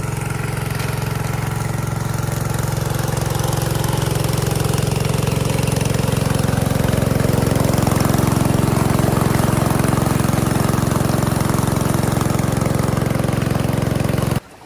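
A 3-inch gold dredge engine runs steadily at close range, a loud, continuous drone with a strong low hum that holds unbroken for about fourteen seconds before cutting off abruptly.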